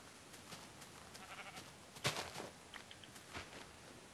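Sheep bleating in the Minecraft video game, a few short bleats over faint game background and footsteps, with one louder bleat near the middle.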